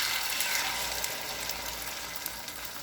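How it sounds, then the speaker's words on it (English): Bacon egg foo young frying in a pan gives off a steady, even sizzle with faint crackles throughout, close and alone with no voices. "just put it into my frying pan to cook it"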